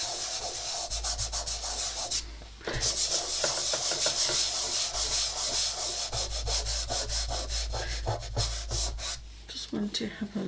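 Soft pastel rubbed into paper with steady scratchy strokes, close and fairly loud, broken by a brief pause and a few lighter dabs near the end.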